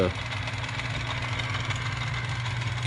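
A 1950s South Bend lathe motor runs steadily, a constant low hum and whir at close range that stays even throughout with no talk over it.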